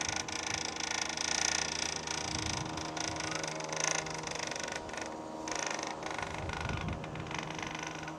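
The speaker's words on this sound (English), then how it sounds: "There's a flagpole making a terrible noise" A steady windy roar with a persistent metallic groaning creak running through it, no voices, continuous for several seconds.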